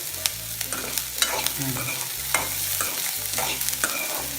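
Onions sauté in a pan for a Tamil-style ulli pachadi, a soft steady sizzle broken by repeated scraping stirs of a spoon, close and moderately quiet with no voices.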